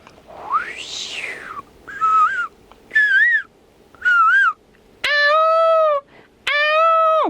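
A mimicry artist's voice imitates morning wind with a rising and falling whoosh, then makes a series of short warbling, whistled bird chirps, each clear and separate.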